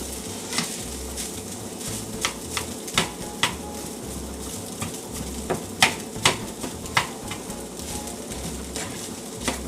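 Ham and egg fried rice with green peas stirred in a steel pan, a steady close sizzle under irregular scraping clinks of the utensil against metal.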